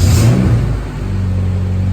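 A Honda car with a DA9 transmission during a synchro repair starts up with a loud close rev that swells and then settles into a steady, rumbling idle, with no voices.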